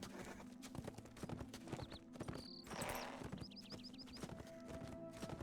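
Horse hooves clip-clop steadily in the video game Lord of the Rings Online, a quick rhythmic trot that runs throughout under game music and ambient effects, with a whinny partway through.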